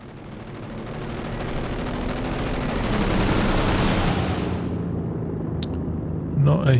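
A tank fires on a Panzer IV in a World War II strategy game, setting off a swelling roar of gunfire and explosions that builds, then cuts off, followed by a short sharp crack and a brief burst near the end.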